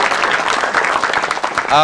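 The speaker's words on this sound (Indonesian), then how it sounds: "Boleh minta tepuk tangannya lagi?" Dense audience applause at a stand-up comedy show, a steady wash of many hands clapping, loud and sustained, with a voice coming in at the end.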